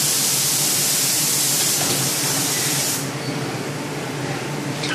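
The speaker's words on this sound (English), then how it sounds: "before applying the black powder, they are applying the second layer of flock adhesive" Spray gun laying a second coat of flock adhesive in flock printing, a steady close, loud hiss that eases slightly partway through and then continues.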